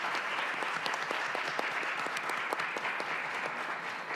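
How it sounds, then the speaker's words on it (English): An audience at an annual women's forum applauding a panel, sustained dense clapping from many hands at an even level throughout. "let's take a moment to applaud our panelists and thank them for their insights and experiences"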